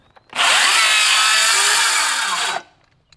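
A Makita power tool, likely a saw, runs at full speed for about two seconds during cedar porch framing outdoors, loud and close, starting and stopping abruptly with no talking.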